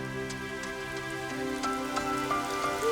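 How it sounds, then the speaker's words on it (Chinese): Sudden rain pattering steadily on a surface, with scattered distinct drops over a sustained hiss and faint background tones, no talking. "怎么突然间下雨了？"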